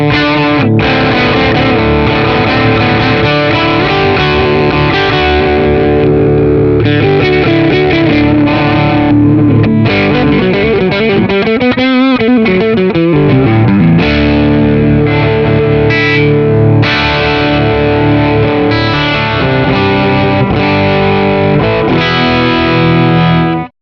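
Electric guitar played through an Xotic SP compressor boost pedal set high, a steady, loud, sustained and slightly driven tone with dense chords and riffs running unbroken for the whole stretch.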